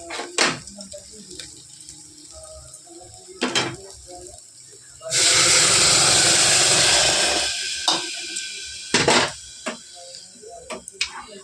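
Hot water poured into a frying pan of spiced, turmeric-coated food sets off a loud, sudden hiss of steam lasting a couple of seconds. Utensil clinks and pan knocks sound before and after.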